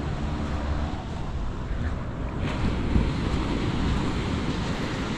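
Ocean waves wash onto a resort beach in La Union, a steady broadband roar of surf with wind buffeting the microphone throughout.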